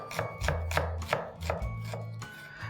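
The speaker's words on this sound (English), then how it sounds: "Let's begin with chopping some onions." Onions chopped with a knife on a cutting board for an egg keema pulao, about eight crisp close knocks in an uneven rhythm, with no talking.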